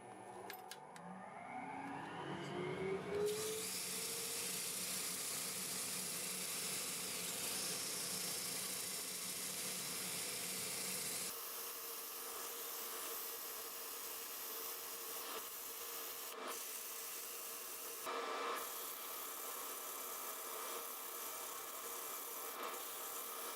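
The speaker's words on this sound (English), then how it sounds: "let's do a little bit of sanding here" A 2-inch sanding disc running against a stacked wood turning gives a steady, close abrasive whir and rasp that holds continuously, with a change in tone partway through as the sanding goes on, and no talk over it.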